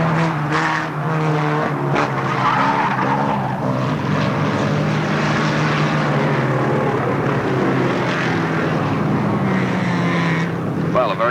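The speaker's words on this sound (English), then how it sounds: "a very good race there from the 2 hot rods and standard rods" Hot rods and standard rods racing at Alwalton Raceway in 1983, a continuous loud roar of engines with shifting pitch as cars pass, a commentator talking over it.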